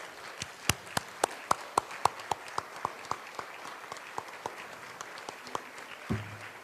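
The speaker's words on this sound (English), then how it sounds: "let us give them a wonderful round of applause," A round of applause at a gathering, heard as sparse, distinct individual claps in a loose rhythm, fairly quiet and thinning out toward the end with a low thump near the close.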